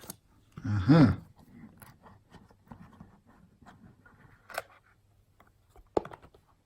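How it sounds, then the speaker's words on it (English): A blade cuts the seal on a Vivo V15 Pro phone box, with a brief scraping rasp near the start followed by faint scratches and small clicks in an otherwise quiet room. "Let's cut the seal."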